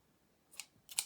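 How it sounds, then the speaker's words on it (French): Two quick scissor snips cutting elastic for sewing menstrual underwear, close and fairly quiet, each a short crisp bright snap about 0.4 seconds apart. "Je vais découper 32 d'élastique."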